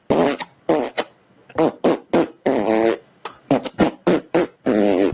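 Long series of loud, close fart sounds coming in rapid buzzing bursts with short gaps, some stretched and rumbling, likely made by a voice imitating farts.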